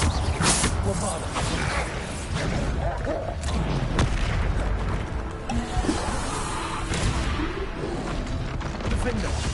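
Bombarda spell explosions going off in the Hogwarts Legacy video game, a dense, continuous barrage of booms and blasts with mechanical clatter layered over busy game sounds, loud and steady throughout.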